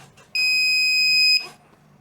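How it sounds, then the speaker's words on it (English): A homemade robot lets out one loud, piercing electronic beep, a steady high tone held for about a second before cutting off, with quieter room noise on either side. "That's a beep."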